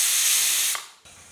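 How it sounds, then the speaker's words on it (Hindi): A pressure cooker of yam (suran) curry lets off a loud, steady hiss of escaping steam that cuts off abruptly after about three quarters of a second, leaving faint kitchen noise. "अब कुकर का ढक्कन लगाते हुए हम सिर्फ 1 सीटी तक पकाएंगे"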